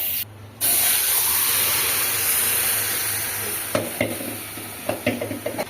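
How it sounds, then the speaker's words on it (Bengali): Potatoes fry in a pan with a bright, loud hiss that jumps in after a brief quieter moment, then a run of clacking stirs and scrapes near the end. "আলুগুলো ভেজে নিচ্ছে"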